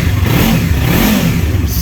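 A 2015 Yamaha YZF R3 motorcycle fitted with a Coffman exhaust revs up close by, giving a steady, loud, guttural engine roar that holds throughout with a slight lift near the end.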